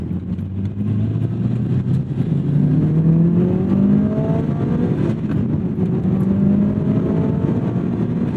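A car engine revs and pulls hard through the gears while driving in the canyons, loud and continuous, rising harmonic sweeps repeating as the engine climbs and eases, with no talk over it.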